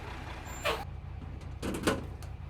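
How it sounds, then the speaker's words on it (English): A milk tanker truck arrives at a dairy farm: a low, steady engine rumble idles throughout, broken by two short, sharp hissing bursts like air brakes. "until the milk truck arrives for the pickup"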